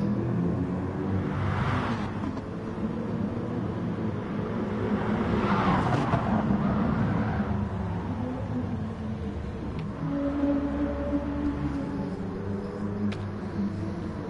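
GT3 race car from a virtual racing game heading out on track at the Red Bull Ring, a steady engine drone with rising and falling revs and gear changes, no voices.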